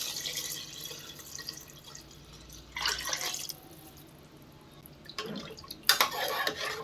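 Water poured onto soaked jeeraga samba rice for chicken biryani, a few short splashing pours and drips in a quiet kitchen with pauses between them.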